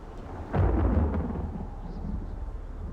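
A deep rumble of thunder breaks out and rolls away over a couple of seconds, with a steady hiss of rain-like noise underneath.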